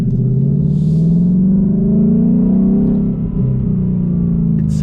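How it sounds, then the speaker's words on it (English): A steady, deep Mustang GT V8 drone with a throaty X-pipe exhaust note, rising slightly in pitch as it revs, loud and close throughout. "the car sounds so good right now. The X-Pipe by itself really made this car more free-flowing"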